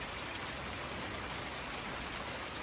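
Steady, even rain pours down in Farming Simulator 19 on the Ravenport map, a dense hiss of drops on surfaces with no break or talk.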